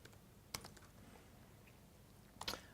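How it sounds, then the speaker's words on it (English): Two short, faint bursts of clicking on a computer keyboard, separated by a quiet pause and heard close in a hushed room, with no talking. "Sorry about my typing."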